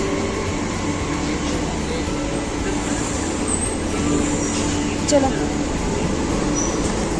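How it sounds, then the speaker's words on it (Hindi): A metro train arriving at a station, a steady loud rumble and rolling hum with faint squeals and a brief clunk, while a person speaks briefly over it. "आ गई हमारी मेट्रो।"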